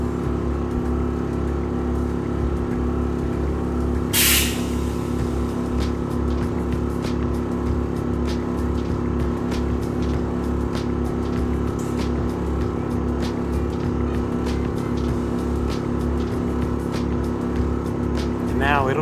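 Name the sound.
AccuAir air suspension compressor running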